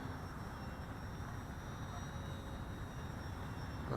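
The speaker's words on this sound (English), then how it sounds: "It glides very well for a heavy plane." A Flite Test Spitfire radio-controlled model plane gliding overhead, a faint steady whine and airy hiss from a distance, continuous and quiet with no voices.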